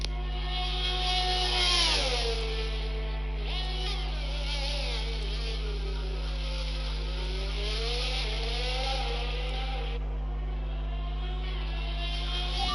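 Onboard engine note of a race car on a flying lap at the Austrian circuit in an Alpine league sim race, a steady high-revving drone rising and falling through gear changes and corners, close and continuous with no talk.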